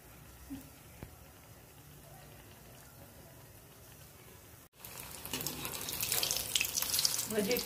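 Battered gilke (ridge gourd) bhaji, coated in besan, drop into hot oil and set off a loud, hissing sizzle halfway through, after a quieter stretch of low kitchen noise.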